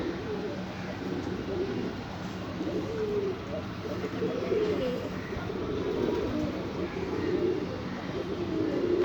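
Outdoors beside a mango tree, a pigeon coos in soft, repeated low phrases against a steady broadband background hum that stays constant throughout.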